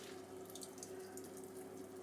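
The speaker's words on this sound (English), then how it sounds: "you can already see it's dripping water" Grated chayote squeezed by hand over a bowl to press out its liquid, with a steady close trickle and splash of water running down continuously, no talking.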